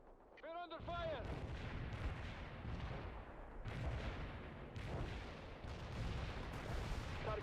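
Video game artillery and gunfire boom and crackle in dense, continuous volleys, heavy blasts rolling one into another after a brief radio chirp, with clipped voices underneath.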